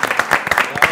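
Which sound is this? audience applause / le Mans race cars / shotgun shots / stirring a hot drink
audience applause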